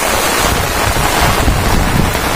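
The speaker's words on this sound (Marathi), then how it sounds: "खूप पाऊसच पडतोय बघा" Heavy first monsoon rain pours down on a village in Konkan, Rajapur, carried on a strong wind. It makes a loud, steady, dense roar that fills the whole span with no pauses.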